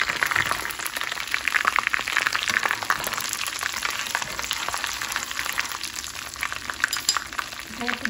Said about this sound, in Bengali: এবার দিচ্ছি আস্তা সরিষা এবং ঝাল মরিচ। এটাকে আমি একটু ভেজে নিব।